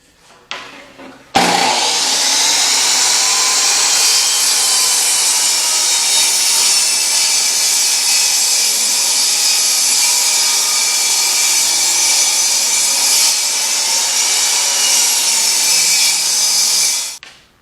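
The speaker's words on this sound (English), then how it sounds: "I'll let you watch me cut the first piece" A power saw rips through a wood board for an inexpensive desk build, starting after a brief quiet moment and holding a loud, steady, high whining cut for about sixteen seconds before spinning down at the end.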